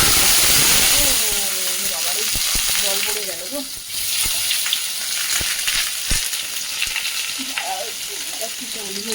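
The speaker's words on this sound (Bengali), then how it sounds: "সোয়াবিন আর আলু এই যে সেদ্ধ করে ছুলে নিয়েছি তো এটা না একটু ভেজে নেব" Boiled, peeled soybean chunks and potatoes frying in hot oil give a steady close sizzle with a few stirring clatters, while someone talks over it at the start and again near the end.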